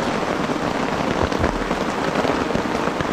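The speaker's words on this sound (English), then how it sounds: "As expected, we have plenty of rain." Steady rain pours down on a remote South Pacific island, a dense, continuous hiss of drops striking surfaces close by, with no voices.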